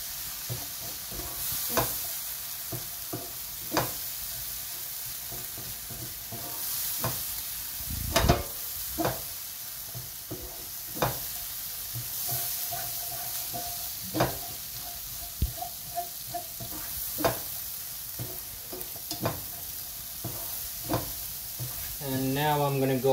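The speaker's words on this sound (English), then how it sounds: "we're gonna give it a good mix and let our ketchup cook just a little bit" Ketchup cooking in a pan for paneer bhurji, a soft steady sizzle with a series of scraping stirs and occasional sharp clacks against the pan, spread over about twenty seconds, close but fairly quiet.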